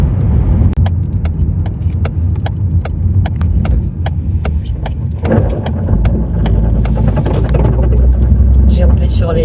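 Steady low engine rumble and road noise from inside a car driving along a small road, with ticking clicks and a shifting roar partway through; someone talks over it throughout.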